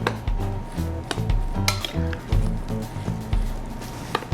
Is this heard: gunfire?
no